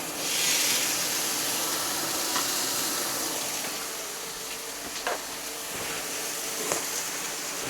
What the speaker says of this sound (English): You can hear it's hot enough because just listen to that sizzle.